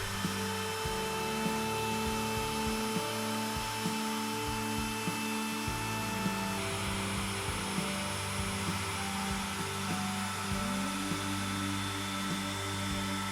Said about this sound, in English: Let's go ahead and sand down these edges.